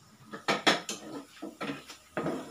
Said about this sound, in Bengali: আমি একটু চেপে চেপে চেপে চেপে একটু ভেজে নিচ্ছি